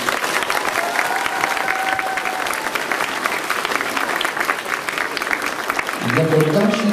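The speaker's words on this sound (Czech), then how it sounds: "taky zatleskáme" Audience clapping at the opening of a children's dance competition event, a continuous loud wash of applause that swells slightly near the end as music or voices begin to come in.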